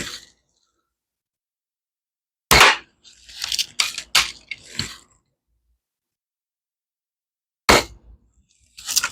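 Red Ryder BB gun fired at egg carton targets, a sharp pop at the start followed by a cluster of clattering impacts and handling noise, then another crack later, all close and without talk.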